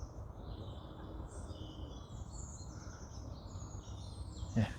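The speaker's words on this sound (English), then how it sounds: "listen to them birds tweeting." Small birds chirp and tweet faintly in the distance over a steady low wind rumble on a still peat moor, with no talking.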